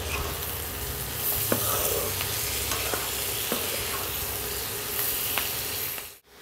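Capsicum stir-fried with mung dal noodles in a pan, a steady close sizzle and frying hiss with occasional clinks of the spatula stirring, alone without talk.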